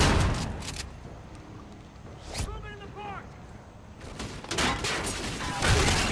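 Rapid bursts of gunfire in Call of Duty Infinite Warfare's Infected mode, sharp repeated shots at the start and end with a quieter middle, heard under someone talking.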